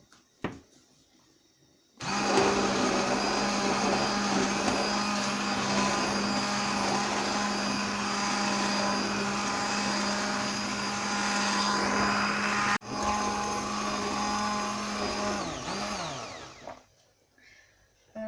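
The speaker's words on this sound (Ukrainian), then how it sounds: "Перемішую, тепер блендерую. Таким порожним блендером блендерую 10-15 хвилин." A loud, steady electric blender motor whirs continuously for about fifteen seconds while blending homemade ketchup, then winds down and stops.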